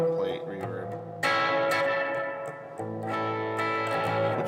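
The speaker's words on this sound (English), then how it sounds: "that's more what I would expect from a plate reverb" A guitar played through a POLY Verbs pedal on its plate reverb setting: struck chords ring out with a bright, shimmering wash that lingers and decays, repeated a few times, with no one speaking.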